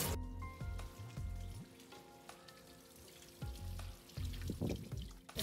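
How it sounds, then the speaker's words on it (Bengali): Ripe bitter gourds are rinsed under running water in a home kitchen, giving a steady splash and trickle with a few louder pours and surges toward the end, close to the microphone, with no talking. "তো এই তো পাকা করলাগুলো একটু ধুয়ে নেই।"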